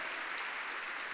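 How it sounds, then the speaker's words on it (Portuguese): A church congregation at a Baptist service applauds, a brief, even wash of many hands clapping at moderate distance, with no break in the sound. "Você pode dar um aplauso para ele?"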